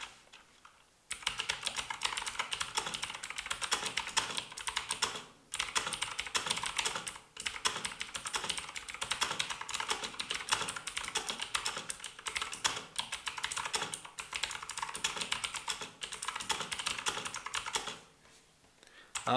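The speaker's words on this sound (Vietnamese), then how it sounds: "cái Green Switch này vẫn có tiếng click key và nghe tiếng click key của nó cũng khá là sướng tai đấy" Someone types steadily on a Tomato S250 mechanical keyboard with green clicky switches. The keystrokes are dense, crisp and close, running without a break for most of the clip apart from a couple of brief pauses, with no talking.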